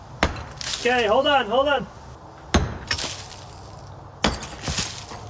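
Sharp whacks knock at bricks in an old farmhouse wall, three loud hard impacts spaced a couple of seconds apart with gritty rattles after each, while people talk nearby.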